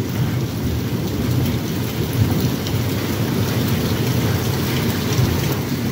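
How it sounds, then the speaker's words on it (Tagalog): Heavy rain pours down steadily on a morning in Saudi Arabia, with thunder and strong wind blending into one dense, loud roar of rainfall that never lets up. "May kulog, may kidlat. May hangin pang kasama na malakas."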